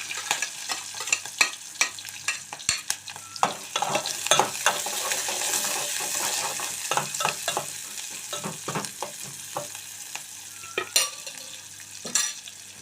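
One large onion and four green chillies frying in a pan for a potato and tomato curry, a continuous sizzle broken by frequent sharp spatula scrapes and taps, close by with no voices.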